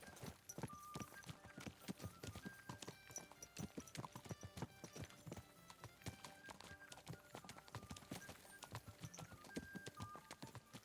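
Steady clip-clop of a horse's hooves in Kingdom Come: Deliverance II, close and rhythmic throughout, with a brief whinny and little talk.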